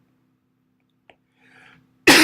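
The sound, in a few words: cough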